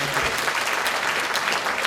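A conference audience in Hong Kong gives a steady round of applause for a speaker at a leadership workshop, dense and continuous throughout.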